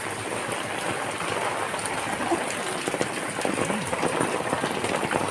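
Steady rain falls on a waterlogged residential street, a continuous broadband hiss with scattered splashes and drips, fairly close and even in level throughout, with no voices.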